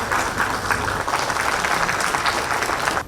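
An audience at a public event applauds the chief minister with steady, dense clapping that lasts about three seconds and stops abruptly.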